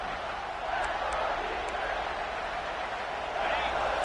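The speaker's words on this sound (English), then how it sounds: "the crowd really making some noise now, trying to help out this defense to get this stop near the goal line" Football stadium crowd roaring steadily to urge on the defense near the goal line, a dense continuous wash of cheering and shouting with a slight swell toward the end.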